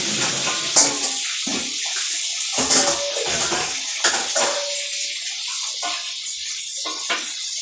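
Honje (torch ginger) stalks being washed under a running tap, with splashing water, intermittent sloshing and rubbing bursts, and a few light clinks against a sink or bowl.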